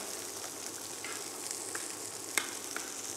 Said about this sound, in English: I want to start to simmer nice and slowly.